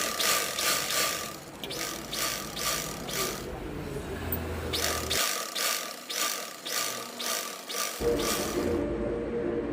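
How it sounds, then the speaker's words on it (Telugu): Sewing machine top-stitching near the waist belt of a size 34 blouse, a close, rhythmic mechanical clatter in repeated bursts with short pauses between runs. "ఇప్పుడు పైన ఒక టాప్ స్టిచ్ వేసుకోవాలండి షేప్ బెల్ట్ దగ్గర"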